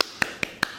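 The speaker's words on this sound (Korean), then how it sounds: "박수." Three sharp, close claps ring out at an even pace, each one a single bright crack with a quick decay, set against a quiet room.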